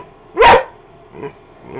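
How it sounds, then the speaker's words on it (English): Pitbull giving one loud, sharp bark close up, followed by two softer, shorter yips, with no talk over it. "Why are you barking?"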